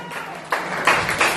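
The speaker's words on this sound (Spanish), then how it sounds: "Den un aplauso al Señor esta mañana." A church congregation applauds at a Sunday morning service, the clapping swelling in bursts over a steady, reverberant room murmur for a brief moment.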